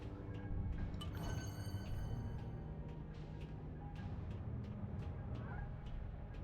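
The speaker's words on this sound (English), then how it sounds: "The bird, the sad bird." Birds call in the video game Alice: Madness Returns, with fowl-like clucks and sharp repeated chirps over a dense, continuous game soundscape that stays at a steady level throughout.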